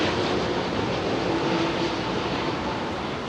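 A steady, broadband roar of an airliner passing near Heathrow Airport fills the short stretch, loud and constant without distinct peaks, and no one speaks.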